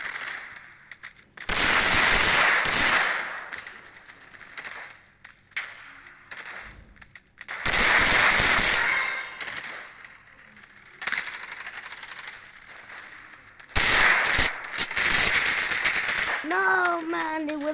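Sharp crackling gunfire from a combat arena shooter video game, including a Desert Eagle pistol, comes in several loud bursts separated by quieter gaps, with a brief voice near the end.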